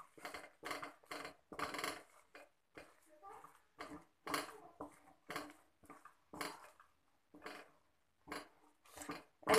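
Murukku dough is mixed by hand in a bowl, giving a series of sharp clinking and scraping strokes in bursts separated by brief quiet gaps, close and moderately loud.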